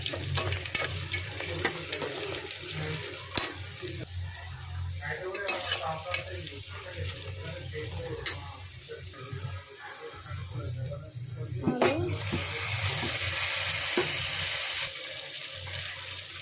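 Onions frying in a pan as turmeric is added, a steady broadband sizzle with scraping stirs and a few sharp clinks, brightening toward the end.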